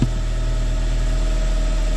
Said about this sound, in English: I pushed it all the way in. Listen to the throwout bearing.